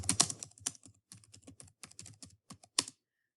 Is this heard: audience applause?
no